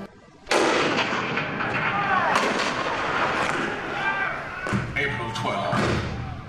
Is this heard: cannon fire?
yes